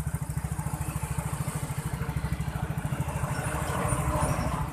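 A Yamaha Mio J scooter engine idles close by after repair, a steady rapid put-put pulse that grows slightly louder toward the end, with no talk.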